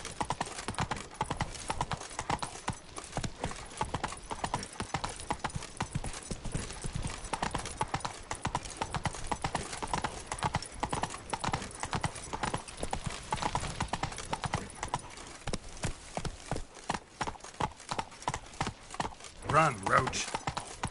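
Hooves clip-clop in a fast, continuous rhythm as a horse gallops in The Witcher video game, with voices talking over the steady hoofbeats throughout.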